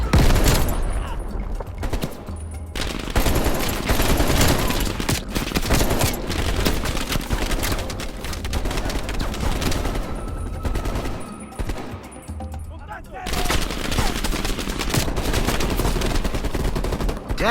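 Sustained suppressing gunfire in a Call of Duty: Black Ops Cold War mission, loud dense bursts and rapid shots running almost continuously with brief lulls, several weapons layered in a chaotic firefight.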